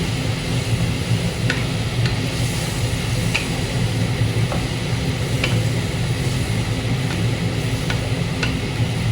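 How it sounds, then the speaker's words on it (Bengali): Prawns hit hot masala in a cooking pan and fill it with a steady, even sizzle of frying. Faint clicks of a utensil stirring come through now and then, with no talking. "আমি এবার হচ্ছে চিংড়ি মাছটা দিয়ে দিচ্ছি।"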